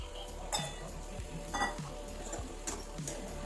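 Paneer fries in a pan with faint sizzling under rhythmic scraping strokes of a utensil stirring roughly once a second, and no one speaks.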